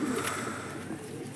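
Pigeons that have come down low around a home on a hot day coo softly, faint low calls under a steady broadband background noise.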